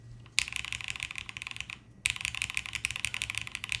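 Rapid typing on a plateless mechanical keyboard, a steady run of close, deep-toned key clacks that pauses briefly and then resumes at the same brisk pace.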